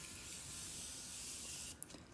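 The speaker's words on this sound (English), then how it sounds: "after I put the powder on my face, I'll hit it with setting spray" Morphe Continuous Setting Mist sprayed onto a face in one long steady hissing burst lasting nearly two seconds, close and fairly loud, then stopping abruptly with a couple of faint clicks.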